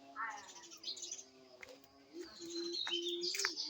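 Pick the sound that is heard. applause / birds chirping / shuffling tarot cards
birds chirping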